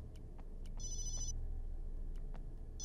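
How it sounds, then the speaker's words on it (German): Electronic telephone bell rings in short bursts inside the survival horror video game Obscure, clear over a low droning background with no speech. "Telefon. Verdammt, das ist bestimmt Ashley."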